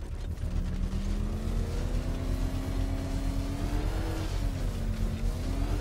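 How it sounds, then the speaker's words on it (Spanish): In Batman Arkham Knight, a vehicle engine hums loudly and rises slowly in pitch as it revs toward the redline, a steady mechanical drone with no talk over it. "Sube lentamente las revoluciones del motor hasta la línea roja para"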